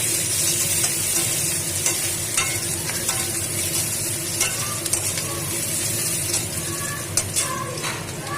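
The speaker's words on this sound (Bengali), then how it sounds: "একটু কালো জিরে, একটু রাঁধুনি ফোড়ন দিয়ে এবার পেঁয়াজ কুচি দিয়ে" Chopped onions frying with black cumin and radhuni spices in hot oil, a loud continuous sizzle with stirring scrapes and small crackles running steadily throughout, close by.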